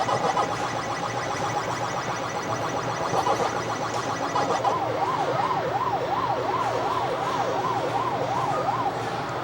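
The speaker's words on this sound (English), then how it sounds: "Only when the ghosts run back to the home base, that siren sound or that whistle sound" A Pac-Man-style arcade cabinet at a retro arcade plays its warbling siren tone as the ghosts return to base, a steady electronic wail that rises and falls in regular cycles over ambient arcade noise.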